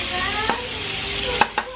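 Paprika, garlic powder and chili powder get stirred into a buffalo wing sauce over a steady sizzle, with a few brief utensil scrapes and taps against the pan near the end.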